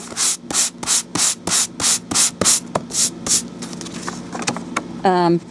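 Rhythmic scratchy rubbing of sandpaper on embossed kraft glassine paper, about a dozen quick back-and-forth strokes close up, followed by a brief voice at the end.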